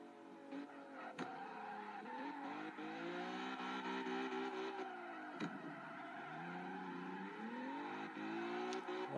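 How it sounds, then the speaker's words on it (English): A Toyota AE86, Honda Civic Type-R EK9 or stock Lotus Exige engine buzzing against the rev limiter, a loud, steady high-rev drone with rhythmic stuttering cuts and pitch swings, plus occasional tire squeal, close and continuous. "Just buzz the rev limiter till I'm in a spot where I can point straight."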